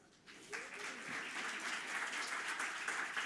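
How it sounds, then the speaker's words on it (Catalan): Theatre audience applauding at an improv-troupe awards gala, a steady broadband crowd clapping that swells in after a quiet start and holds loud and continuous to the end. "Jo he notat aquest aplaudiment una mica amb cachondeïto, no?"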